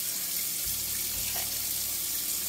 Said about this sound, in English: we're gonna put some warm water on